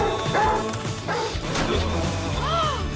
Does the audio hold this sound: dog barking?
yes